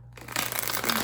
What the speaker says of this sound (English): Let's get some shuffles in here